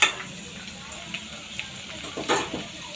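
Ginger and betel leaf stems sizzle in a frying pan, with soft intermittent scrapes and clatters as they are stirred. The frying hiss is steady and close.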